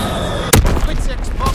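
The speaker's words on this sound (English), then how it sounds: "Dropping Fritz X bombs." A Fritz X bomb explosion in Call of Duty WW2, one sharp booming blast hitting after a short pause, with rumbling debris and game chatter continuing underneath.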